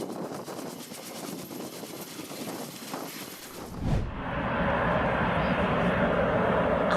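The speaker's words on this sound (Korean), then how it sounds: "이건 바로 KMAX만의 독특한 인터매싱 로터 시스템으로" Loud K-MAX helicopter intermeshing rotor noise with rapid pulsing thumps, cutting off abruptly midway before a broad steady engine roar takes over.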